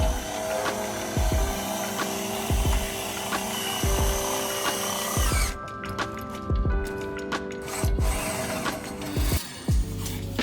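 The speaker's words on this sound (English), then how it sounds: "invented their own pulley system that hoists heavy equipment with an electric screwdriver and a ladder" Electric screwdriver driving a homemade ladder-mounted pulley hoist lifting heavy equipment, a steady motor whir punctuated by a regular series of clicking ratchet-like knocks about once a second, with a tone change midway.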